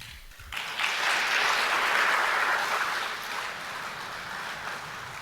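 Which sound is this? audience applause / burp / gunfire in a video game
audience applause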